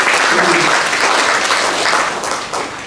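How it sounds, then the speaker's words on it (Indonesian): Loud, close applause for students at a school gathering during a regional governor's visit to Rote Ndao, a dense burst of clapping that holds steady for about three seconds before thinning out. "Tepuk tangan buat siswa-siswi semua."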